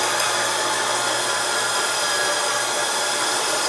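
Powered snowmobile lift in a garage raising a sled, a continuous close motor drone and grinding hum with steady level throughout, no voices.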